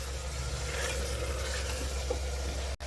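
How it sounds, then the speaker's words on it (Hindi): Mutton with ginger, garlic and green chillies frying in a pan, giving a steady, loud sizzle that runs unbroken and close, with faint stirring and a brief cutout near the end. "थोड़ा देर अच्छे से हम भूनेंगे इसको"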